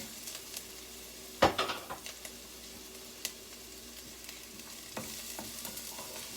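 Minced garlic frying in a pot for chicken tortilla soup, a soft steady sizzle broken by a few sharp clatters of a utensil stirring against the pot, close and fairly quiet.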